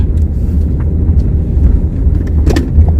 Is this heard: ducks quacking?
no